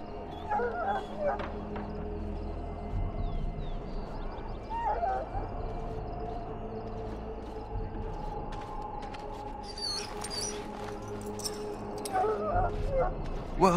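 A sick hound in Dragon Age Origins, poisoned by darkspawn blood, gives a few barks and repeated whimpers and yips amid game ambience, with voices speaking over it.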